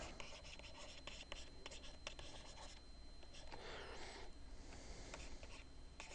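A pen scratches and rubs across a writing surface during a chemistry lesson, a faint, continuous run of short strokes with brief pauses between them.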